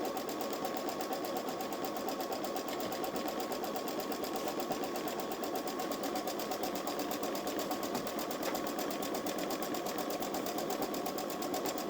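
A Babylock Solaris 3 embroidery machine stitches out a design, its needle hammering in a fast, steady rhythm with a constant mechanical whir, close and unbroken throughout.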